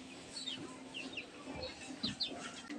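Young chicks in a pen waiting to be fed give soft, scattered clucks and chirps against a constant low hum, faint and fairly distant.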